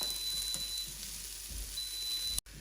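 Onions sizzle in oil inside an Instant Pot, a soft, steady hiss of frying heard alone at low volume.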